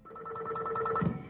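A telephone ringback tone plays briefly on a 911 emergency call recording, a faint pulsing electronic ring lasting about a second.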